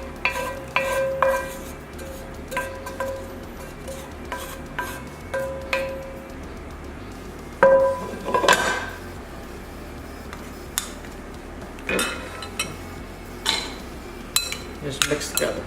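A spoon clinks and scrapes in a mixing bowl as lasagna filling is stirred into tomato sauce, in irregular close taps and rubs with short pauses between them.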